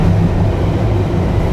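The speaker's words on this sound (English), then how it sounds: "So as we go, we're going to enter the train." Miami Metrorail train rumbling steadily, a loud low continuous drone close by, with no talk.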